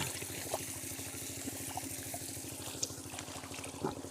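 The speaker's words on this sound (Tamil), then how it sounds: "வாங்க, நம்ம அறுத்து வச்சதெல்லாம் கழுவி வீட்டுக்கு கொண்டு போயிட வேண்டியது தான்." Freshly harvested brinjals from a home garden being washed in water, a continuous close trickle and splash with a steady underlying pulsing rhythm, faint small knocks now and then.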